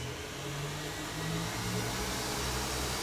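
A Kenwood stand mixer whisks a large batch of cream on high speed, giving a loud, steady motor whir with a broad rushing hiss that holds for the whole stretch and has no talking.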